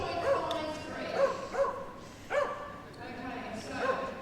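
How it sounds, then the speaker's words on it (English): A beagle at a Crufts dog agility event gives a series of yipping, whining barks in uneven bursts, moderately close, while voices and crowd noise carry on underneath. "So that's our little beagle going."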